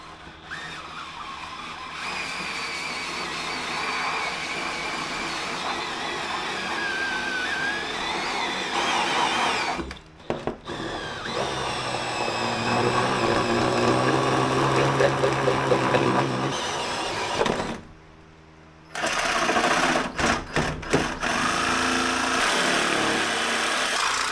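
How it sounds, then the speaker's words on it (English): A power drill whirs in long sustained runs drilling holes for a small generator build, with two brief pauses between bursts, loud and close. "let's drill some holes"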